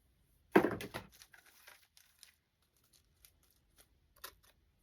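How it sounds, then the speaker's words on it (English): Greenery being cut up for a centerpiece, one loud crisp snip and rustle of leaves up front, then scattered faint clicks and a final small snip, no talking. "So I'm just going to cut up some different greenery that I have."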